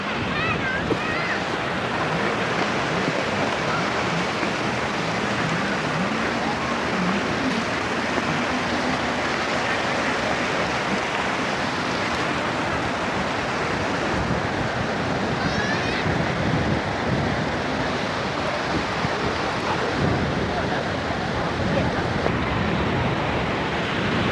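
Strong sea waves crash steadily onto a beach under gusting wind, a loud, continuous roar of surf with wind buffeting the microphone throughout.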